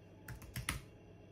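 Several quick keystrokes tapped on a keyboard while entering a tag search into a note-app filter, a short burst of about four clicks standing alone against quiet background.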